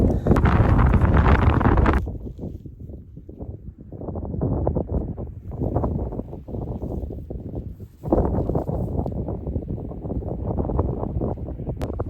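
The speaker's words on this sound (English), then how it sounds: "Oh, the wind. I hope you can hear me alright." Wind buffeting a microphone outdoors on a hillside in Knoydart, a loud roaring gust at first, then lower rumbling wind that swells again and keeps blowing throughout, with no talking.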